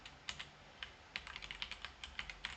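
Code typed on a computer keyboard, a string of light, uneven key clicks that speeds into a faster patter, close but quiet, with no voice.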